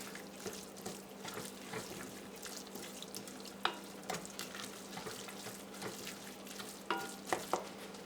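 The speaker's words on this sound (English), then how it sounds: "Stir that in." A spoon stirs hot dog sauce in a pan, soft scraping and gentle sizzling under a low steady background hum, with a few sharper clinks of utensil against the pan.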